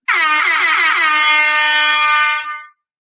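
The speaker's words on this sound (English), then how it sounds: "And a nice big air horn to go with it." A loud, bright air horn blasts in one continuous tone for over two seconds, then cuts off abruptly.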